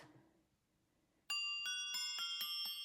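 Wind chimes recorded at a house ring out after a quiet stretch, a series of bright, sustained metallic strikes overlapping into a shimmering wash, fairly close and with no voices.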